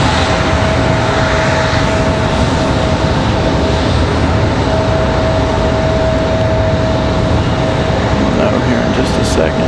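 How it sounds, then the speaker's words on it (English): An American Airlines Boeing 737 roars steadily and loudly overhead at Raleigh Durham International Airport, a broad jet rumble with a faint tonal whine running throughout. "Tonight we've got American in a 737"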